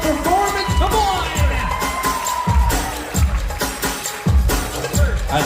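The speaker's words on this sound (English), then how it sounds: "a big round of applause for that beautiful performance" A wedding crowd cheers, whoops and shouts after a performance, loud and close, with rhythmic clapping or thumps, and voices call out over the noise throughout.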